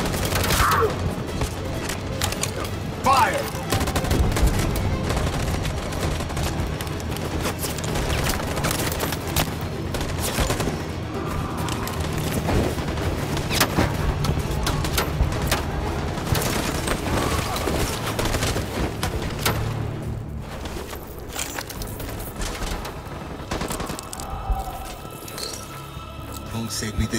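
Dense gunfire rattles on and on in a battle scene from Detroit: Become Human, a steady wash of many weapons firing at once, loud throughout with shouting voices mixed in.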